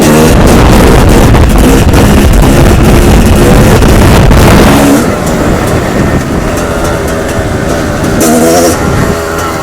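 A KTM 300 EXC supermoto motorcycle engine revs hard and loud, with heavy wind buffeting, then settles into a lower steady drone.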